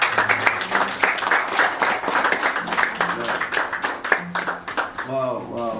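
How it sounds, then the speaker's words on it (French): A church congregation claps in sustained applause while a voice speaks loudly and excitedly over the clapping. "on acclame vraiment la parole"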